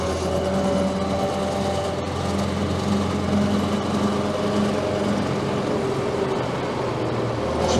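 A 1928 Austin 12 Heavy vintage car's engine runs steadily while driving, giving a continuous, fairly loud drone with no speech.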